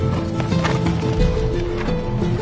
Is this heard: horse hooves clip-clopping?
yes